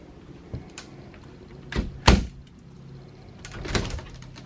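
An RV entry door swings shut on a repaired hinge with a washer added under the bushing, giving a few close thuds and a sharp latch knock midway, then a softer bump, with no talking.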